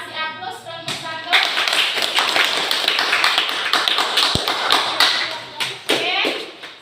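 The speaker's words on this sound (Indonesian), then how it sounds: "Kita kasih aplaus kelompok 1" A classroom group claps for Group 1 at an Indonesian school lesson, with steady, close applause running throughout and a few voices mixed in.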